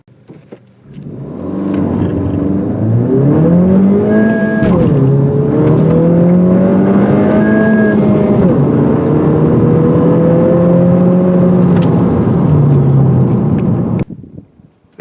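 A 2020 Honda Civic Si with a six-speed manual accelerates hard, the engine note climbing through the gears in rising sweeps, loud and close, then cutting off abruptly at the end.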